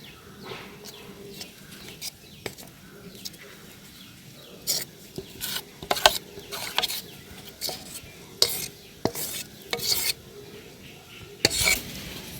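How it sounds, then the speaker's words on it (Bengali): A spoon spreads and mixes semolina batter for steamed bhapa pitha, giving soft stirring scrapes and sharp metallic taps and clinks against the pan or dish at irregular intervals, close by with a quiet background. "একটা চামচের সাহায্যে চারদিকে সমানভাবে মিলিয়ে দিচ্ছি"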